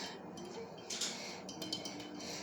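Utensil scraping thick, cooked dye off the edges of a microwaved dish, with a few close, brief scratchy clinks over a quiet hiss.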